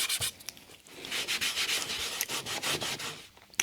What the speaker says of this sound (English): it's just rubbing it again to try and loosen anything that's come off in the last 10 minutes